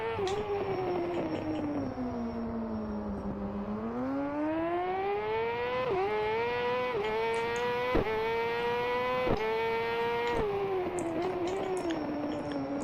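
Motorcycle engine in the racing game GP Bikes, a loud continuous whine that drops in pitch while slowing, then climbs and holds high with sharp gear-shift breaks, alone without talk.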